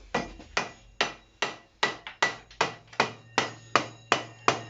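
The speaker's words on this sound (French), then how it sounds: "avec un marteau en caoutchouc, vous vous mettez bien." A rubber mallet tapping a motorcycle fork column into place during an LTZ400 restoration: about a dozen evenly spaced, sharp, close knocks in a steady rhythm, with no talking.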